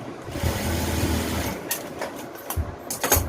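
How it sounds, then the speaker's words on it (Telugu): A sewing machine stitches along the folded edge of a madisar saree, its steady motor whirr running close and continuous for about a second and a half before breaking into short, sharper bursts and clicks. "ఫస్ట్ ఒక 5-6 ఇంచుల వరకు ఒక సైడ్ ఇలా మడిచి కుట్టుకోండి"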